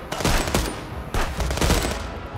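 Rapid automatic gunfire from the video game Contraband Police rattles out in two dense bursts with a brief gap between them, loud and close.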